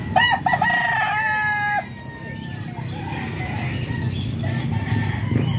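Rooster crowing at a Tuesday chicken market in Calumpit, loud and close, with stacked harmonic crows in the first two seconds followed by clucking fowl and crowd noise.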